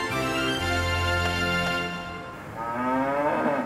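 Cows on an Irish farm give long, deep, drawn-out moos, one low bellow followed by another that rises in pitch, loud and fairly close.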